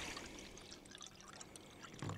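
Water is trickled and poured into a small cooking pot on a compact camping stove, a soft continuous dribbling splash with a heavier gush near the end, no talking.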